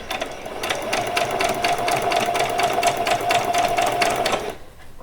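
A sewing machine stitches fabric with the needle held in the down position, a fast steady mechanical chatter running for about four and a half seconds before stopping abruptly.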